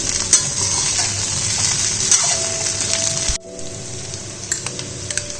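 A spoon stirs fried lentil dumplings (bori) through vegetables in a pan for a Bengali vegetarian chorchori, steady close scraping and sizzling that cuts off sharply partway, leaving a quieter tail with faint clicks.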